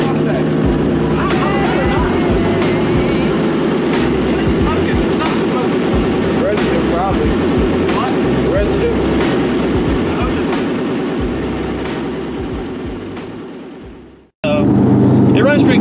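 A loud, rumbling 2002 Ford Mustang GT engine with mufflers and catalytic converters removed, leaving only an X-pipe, idles and revs with a raw, unmuffled exhaust roar, steady for a long stretch before cutting out briefly and returning.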